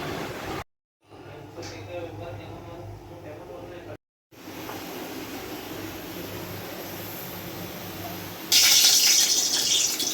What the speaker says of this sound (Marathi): आता यामध्ये पाण्यामध्ये स्वच्छ धुवून घ्यायचा